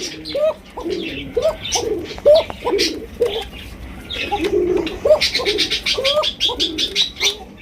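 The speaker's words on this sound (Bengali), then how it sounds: "ডাকতেছে বোঝা যায় যে এটা ডাকের একজোড়া কবুতর" A pair of pigeons cooing close by in repeated throaty bursts, their soft rolling calls overlapping with some higher chirps; no one speaks.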